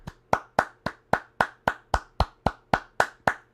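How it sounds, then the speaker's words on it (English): Single pair of hands clapping slowly and evenly, about thirteen sharp claps at a steady rhythm, close and alone in a quiet room. "let's give a round of applause"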